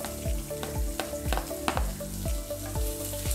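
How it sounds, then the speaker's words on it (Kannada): Onions sizzle steadily in oil with cashews over a low flame for multigrain usli, a constant close frying hiss broken by regular scraping stirs of a spoon against the pan. "ಆನಿಯನ್ ಚೆನ್ನಾಗಿ ಫ್ರೈ ಆಗಲಿ, 1-2-3 ನಿಮಿಷ ಫ್ರೈ ಆಗಬೇಕು"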